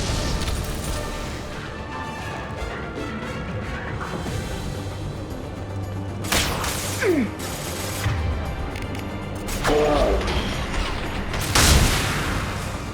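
Gunfire from weapons in the sci-fi shooter Mass Effect: a few sharp, heavy bursts stand out over a dense, steady background of combat noise, with the loudest shot near the end.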